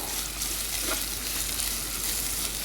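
Tomatoes, curry leaves and chili sizzle in hot oil in a frying pan while being stirred for a Kerala-style egg curry, a constant close hiss with no voices.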